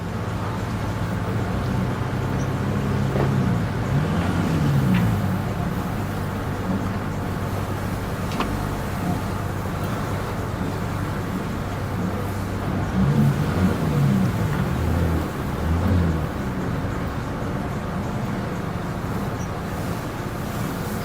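A boat's inboard engine runs at a raised, steady 1500 RPM with a continuous droning rumble, close and fairly loud, swelling slightly at moments with no speech over it.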